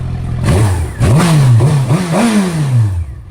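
A 2006 Suzuki GSX-R motorcycle engine revs several times in quick bursts, pitch climbing and dropping with each blip before settling back to idle; loud and close.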